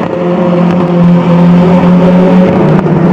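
Race cars at the Nürburgring roar past loudly as they charge downhill through a left-right sweep, engines holding a steady high drone with slight pitch shifts.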